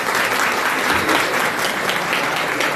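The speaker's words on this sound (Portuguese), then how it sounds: "eu peço para vocês uma salva de palmas para o Leonardo." Audience applause after a lecture, a dense wash of clapping hands filling the room at full strength throughout a few seconds, heard alone.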